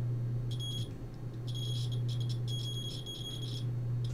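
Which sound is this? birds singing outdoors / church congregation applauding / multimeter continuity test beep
multimeter continuity test beep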